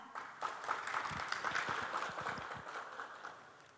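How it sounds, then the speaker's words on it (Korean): An audience at the 2021 Korea Innovation Expo gives soft, scattered applause, heard fairly distant and faint, for a presentation. "여러분 큰 박수 부탁드립니다."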